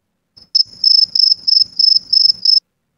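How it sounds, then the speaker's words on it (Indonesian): AI-generated cricket chirping created with a video editor's sound effect tool: about six steady, loud trilling bursts in a regular rhythm, with no other sound around them. "Dan di sini saya sudah buat sebelumnya suara sound effect jangkrik."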